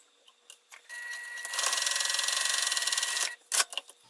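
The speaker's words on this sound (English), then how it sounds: "we're just sewing across the top with the seam allowance given in the pattern" A sewing machine stitches a seam across the top of two slip pocket pieces clipped right sides together, part of a fabric phone charging holder. One steady, fast, rhythmic run of about two seconds, with a few clicks before and after.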